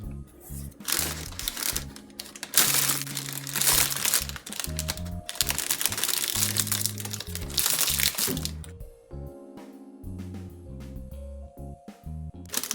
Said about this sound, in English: You add the sugar scrub into the bag like so.